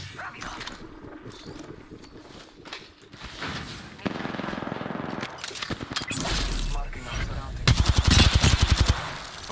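Gunfire rattles in an Apex Legends match, with bursts of rapid shots that grow louder and denser toward the end, mixed with game effects and voices talking over the action.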